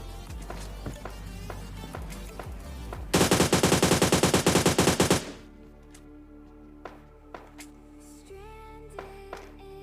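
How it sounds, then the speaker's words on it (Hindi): Automatic gunfire in a battle royale video game: a loud, rapid burst of machine-gun shots lasting about two seconds in the middle, framed by game sounds and quieter scattered effects before and after. "मुझे सामने की तरफ से कुछ गन साउंड्स की आवाज़ आ रही थी"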